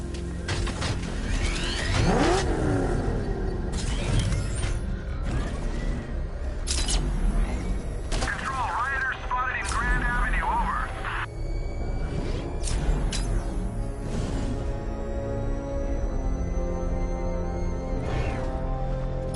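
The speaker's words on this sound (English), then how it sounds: "The Arkham Knight's vehicle swerved and crashed up ahead." A vehicle swerves and crashes in the Batman: Arkham Knight video game, with loud, dense engine roar and whooshing, sharp mechanical clatter and impacts layered over a constant thick wash of game sound.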